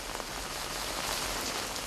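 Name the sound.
rain falling on dry ground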